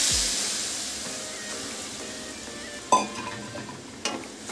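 A spiced tamarind chutney mixture with tamarind pulp, turmeric and coriander powder is stirred in a pan for dabeli, giving a steady soft hiss with two sharper scrapes near the end and no talking.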